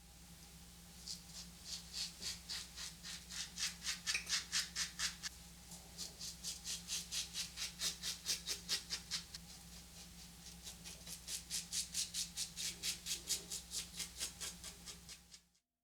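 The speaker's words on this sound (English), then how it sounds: "And now I'll go with the Henson AL13 left side, third and final pass." A Henson AL13 safety razor scrapes across a face on a final shaving pass, making rapid, evenly repeated close rasping strokes in several long runs with brief pauses between them.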